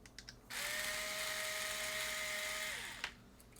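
A small electric screwdriver whines steadily for about two and a half seconds while removing a screw from a PlayStation 4 console under repair, with faint clicks before and after.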